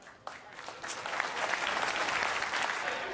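A bowling tournament crowd bursting into applause, a dense wash of clapping that swells quickly and holds steady, loud and close with no clear voices.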